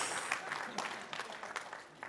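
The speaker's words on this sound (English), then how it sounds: "Give a light applause." A business summit audience gives a brief, light round of applause, soft scattered clapping heard faintly at a distance.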